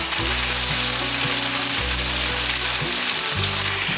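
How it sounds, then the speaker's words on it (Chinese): Tofu pan-frying in a little oil over medium-low heat gives a steady, dense sizzle that runs unbroken throughout, with a faint low hum from the stove underneath and no talking. "用中小火慢慢的煎豆腐。"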